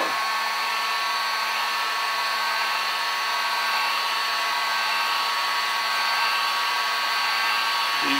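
A hot air blower runs in a continuous, steady whoosh close by, heating the plastic of a hydroponic grow tower, alone and unbroken throughout.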